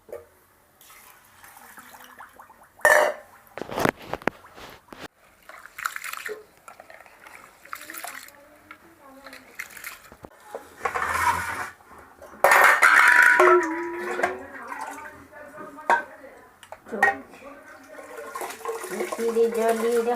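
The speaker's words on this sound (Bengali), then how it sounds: "চালটা ধুয়ে নেবো।" Rice washed by hand in a metal pot in a home kitchen: water sloshes, grains scrape, and the pot clanks in irregular bursts, with some talking nearby.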